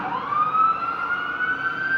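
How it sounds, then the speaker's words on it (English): A loud wailing police siren rises and holds a high tone as it passes nearby outside an apartment building, with low vehicle rumble underneath. "the police decide to take a slow 10-minute siren-filled drive past our apartment building"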